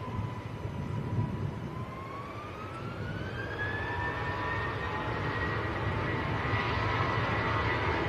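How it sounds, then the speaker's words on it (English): A KLM Airbus A321neo taxiing at Manchester Airport, a steady engine whine that slowly rises in pitch over a constant broad rumble, heard from a distance with no talk. "KLM's A321neo is taxiing out as well."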